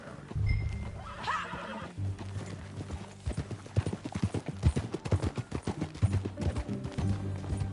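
In Red Dead Redemption 2, a horse whinnies near the start, then hooves clip-clop in a steady, close rhythm of distinct strikes over a low background tone.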